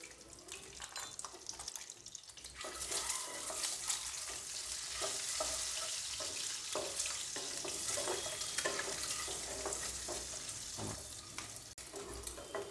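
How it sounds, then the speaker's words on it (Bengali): Eggs scored and dusted with turmeric fry in a pan for egg curry, giving a steady, fairly loud hiss and crackle that runs throughout, with occasional sharper pops and spatters and no talking. "বন্ধুরা দেখুন আমার ডিমগুলো লাল লাল করে ভাজা হয়ে গেছে"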